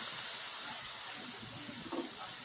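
Cauliflower and potato with masala and chutney sizzle as they are sautéed in a pan, giving a continuous close hiss with no pauses.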